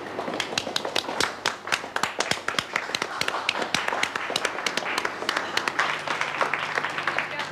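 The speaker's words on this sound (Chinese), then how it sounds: "大家给他一点掌声鼓励" A small group of office colleagues claps for a newcomer, with scattered individual hand claps in an uneven, lively rhythm that continues for several seconds at close range.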